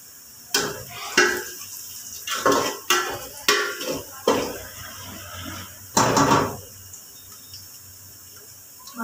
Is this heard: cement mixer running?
no